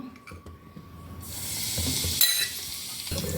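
Cumin powder hits hot oil and a bright sizzle erupts after a quiet start, with faint handling clinks beforehand.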